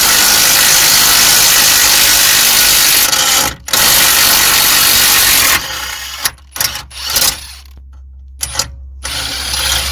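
A power tool runs loud and steady for several seconds, undoing an 18mm suspension mount bolt on a Volvo XC60, then breaks into short, uneven bursts as the bolt comes free; no one speaks.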